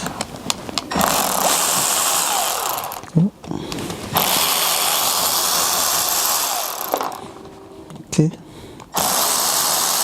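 Power tool whirring in loud sustained bursts while bolts are removed from a 1998 Toyota Corolla starter during a rebuild, with brief pauses between runs and someone talking.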